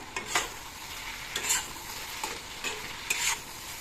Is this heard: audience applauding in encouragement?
no